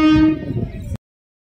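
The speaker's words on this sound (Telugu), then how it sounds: "ఇదిగో మాటల్లోనే ట్రైన్ వచ్చేసింది" A train horn sounds near the Godavari rail-cum-road bridge at Rajahmundry: one loud, sustained harmonic blast lasting about a second before cutting off abruptly.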